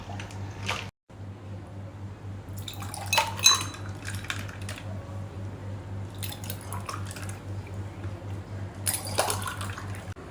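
Continuous wet sloshing and clinking of a utensil against a vessel as lassi is churned by hand, with brief louder splashy bursts, close by and steady.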